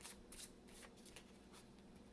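Playing cards are shuffled with quick riffling bursts and soft flicks, close and fairly quiet, with no voices.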